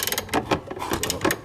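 A crow's foot line wrench turns a steering box fitting on a 2011 Chevy 3500 Duramax truck, giving a quick burst of close metallic ratcheting clicks, about six in a second and a half.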